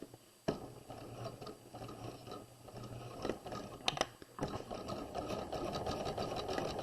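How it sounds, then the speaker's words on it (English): Sewing machine running a regular-length stitch down the side seam of a fabric bodice, a close, steady mechanical whir with a sharp start, brief pauses for backstitching, then continuous running. "sew down the side seam of the bodice"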